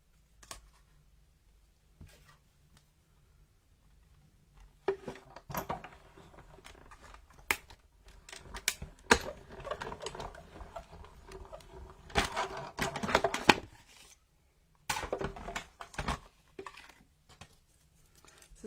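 A die cutting machine cranks a caravan-shaped die through for a Christmas card, sounding as a near run of dry clicks, rattles and crunching bursts in uneven clusters after a few quiet seconds, with no talk.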